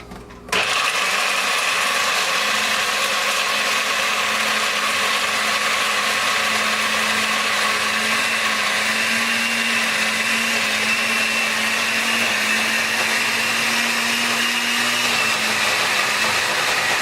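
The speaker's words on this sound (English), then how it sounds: "And you put it in the blender?" A blender runs continuously for about sixteen seconds, mixing puppy food with water for four-week-old Mini AussieDoodle puppies, producing a loud, steady, close whirring that starts abruptly and holds at an even level.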